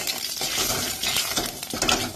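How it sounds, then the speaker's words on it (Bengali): Panch phoron spices hitting hot oil in a wok, a dense loud crackling sizzle with small pops and a metallic scrape, heard alone without talk. "5 ফোড়ন দিয়ে দিলাম"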